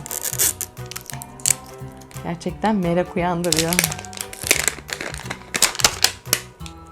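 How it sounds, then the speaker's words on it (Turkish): Cellophane crackles and crinkles as the wrap comes off L.O.L. Surprise doll packaging, in quick bursts of sharp rustling mixed with a person talking and background music. "Evet tekrar bir jelatin daha var."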